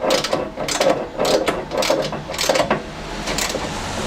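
A ratchet tightens an engine bolt on a classic Fiat 500 in a series of rhythmic clicking bursts, about eight quick strokes, close and distinct, with no talking.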